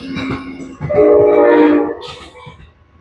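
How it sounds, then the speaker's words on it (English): A train rolls past on nearby tracks near a skate park, its steady rumble swelling through the middle with a sustained horn-like tonal blare, then fading as it moves off. "It's a train."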